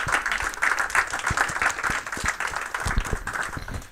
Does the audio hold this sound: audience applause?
yes